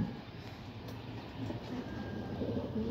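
A grizzle racing pigeon comes into its loft after a 116 km training flight, with faint cooing over a steady low rumble in the background.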